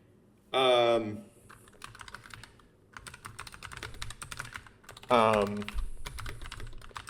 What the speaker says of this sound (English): I'm typing something here because I actually forgot to Google it right before the recording